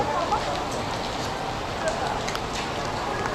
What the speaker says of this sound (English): Got some mad rain action here in the subway.